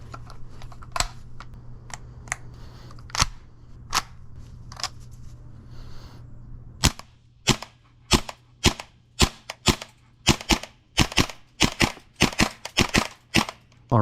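An airsoft gun fires through a magazine on semi-auto, giving sharp single cracks, sparse at first, then a rapid irregular string of closely spaced shots near the listener, with no talking.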